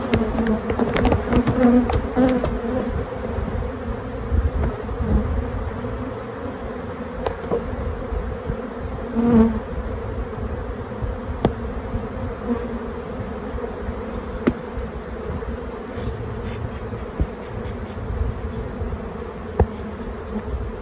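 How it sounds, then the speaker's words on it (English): Honey bees from a queenless hive mill on the bottom board as the hive is shaken out, a loud, continuous close-up buzzing with occasional individual bees zipping past the microphone. "There's the bees on the bottom board."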